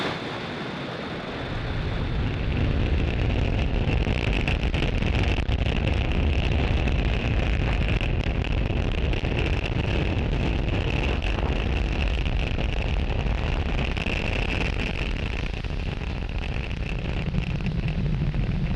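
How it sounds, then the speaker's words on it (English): SpaceX Falcon 9 rocket lifting off from Space Launch Complex 40 at Cape Canaveral, Florida, on a Starlink mission: a sustained, distant broadband roar that swells after a quiet start and rumbles steadily on. "Falcon 9 has successfully lifted off from Space Launch Complex 40 from Cape Canaveral, Florida"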